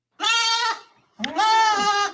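Goat bleating sound effect played on a sports talk show: two long, loud, quavering bleats close up, separated by a short pause, with no talk over them.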